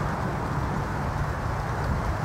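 Steady broadband roar of freeway traffic right next to an outdoor spot, a constant dense rumble with no distinct passes or voices.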